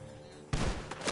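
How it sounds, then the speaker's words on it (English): Gunfire in the Red Dead Redemption 2 video game breaks out abruptly after a quiet stretch, a loud dense burst of overlapping shots that keeps going to the end. "The gunshots are coming."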